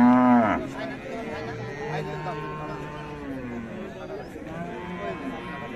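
Red-and-white Friesian cattle low at a busy rural cattle market in Ranigonj, Dinajpur, one long moo at the start then softer lowing amid steady crowd chatter and talk.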